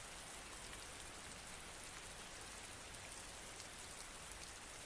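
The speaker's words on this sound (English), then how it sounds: "It has been raining heavily since early this morning." Heavy rain coming down steadily over a garden, a dense, even hiss with no pauses and no voices.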